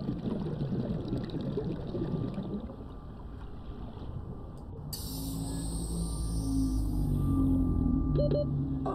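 A low oxygen warning tone chimes in the Subnautica video game over a soft underwater ambience, rising faintly near the end of a watery, muffled underwater soundscape.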